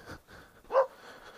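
A dog barks once outdoors, a single short moderately near bark that follows faint background noise and quieter rustling.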